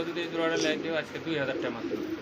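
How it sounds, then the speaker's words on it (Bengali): A pair of pigeons cooing close by at a bird market, soft repeated throaty coos in a short run, with someone talking over them. "দেখেন কত সুন্দর একটা জোড়া কবুতর দেখেন"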